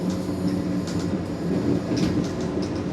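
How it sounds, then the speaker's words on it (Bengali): The Vande Bharat Express runs from Howrah to New Jalpaiguri, a steady, close interior rumble of the moving train with faint clatter and brief higher squeals over about three seconds. "আজ আমি যাচ্ছি বন্দে ভারতে, হাওড়া এনজিপি বন্দে ভারত 22301"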